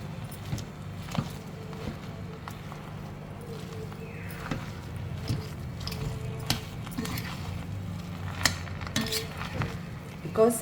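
A spoon stirring and combining dal ingredients with hot potato and capsicum in a metal pot, producing steady scraping and soft squelching with occasional clinks against the pot, close and moderately loud.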